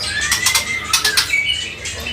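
An oriental magpie-robin, the murai trotol, flutters and flaps its wings in short bursts while being taken out at a bird kiosk, with brief sharp rustles close by and no talking.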